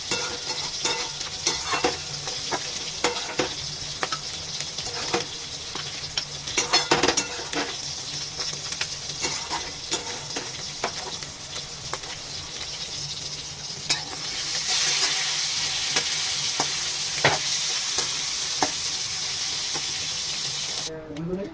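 Fish fries and sizzles in a pan while being stirred, with a continuous hiss, scattered utensil scrapes and clicks, and the frying growing louder partway through.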